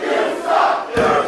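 Wrestling event crowd roaring and cheering at an indie pro wrestling show, a loud sustained swell of many voices with a sharp thump partway through.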